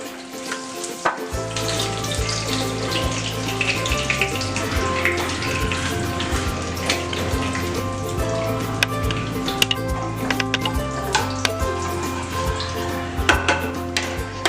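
Cinnamon sticks frying in oil in a pan while being stirred, a steady close sizzle with scraping and ticking stir sounds throughout, under a sustained low musical drone.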